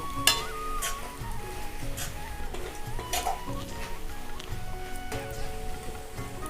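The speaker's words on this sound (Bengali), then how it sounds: "1 চামচ গরম মশলার গুঁড়ো দিয়ে আমি ভালো করে এটা ভেজে নেব" Ground turmeric, cumin, coriander and garam masala frying in oil in a pan for Bengali muri ghonto, a steady close crackling sizzle with occasional sharper pops and light stirring scrapes throughout.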